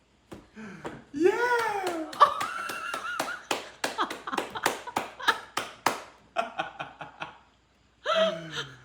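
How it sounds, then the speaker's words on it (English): A baby girl around six months old claps her hands at home in a series of light, quick claps while adults cheer, laugh and talk over them close by. "She learned how to clap."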